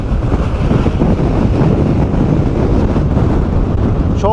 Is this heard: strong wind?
yes